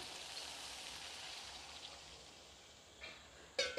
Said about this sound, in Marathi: आता पाणी टाकत आहे मी